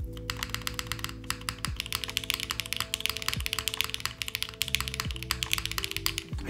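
Mechanical keyboard fitted with Macchiato HMX switches and Phillips-screw case, typed on steadily alone: a close, dense stream of crisp clacking keystrokes with occasional heavier spacebar thumps, no voices.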